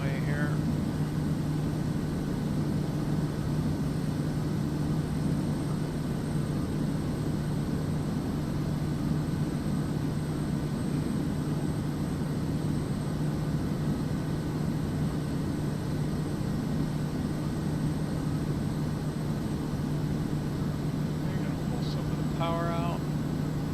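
A Kodiak single-engine turboprop in Microsoft Flight Simulator 2024 drones steadily and loudly throughout, a constant low engine hum under steady broadband noise, with brief chirpy tones near the end.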